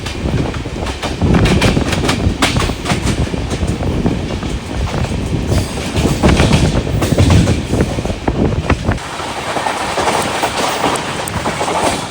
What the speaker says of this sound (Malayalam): നമ്മുടെ സിന്ധനൂർ എക്സ്പ്രസ് ഇപ്പോൾ ഒരു 10 മിനിറ്റ് ലേറ്റായിട്ട് തുംകുരുവിലെത്തിയിരിക്കുന്നു